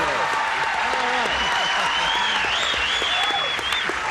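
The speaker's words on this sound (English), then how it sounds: "All those grandchildren and everybody is out there clapping away for you?" A television game show studio audience applauds, steady dense clapping filling the room with some whistles and cheers over it, loud and close throughout.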